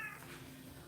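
A mother cat and kittens meow in a brief, faint burst of overlapping cries, with no talk.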